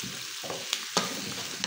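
Squash and okra being stirred in a frying pan for pakbet with pork, a soft sizzle running throughout with a few sharp scrapes of the utensil against the pan.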